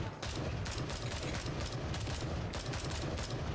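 Sustained gunshots in the military shooter Gray Zone Warfare, a loud, nearly continuous stream of rapid rounds with sharp bursts cutting through a dense barrage.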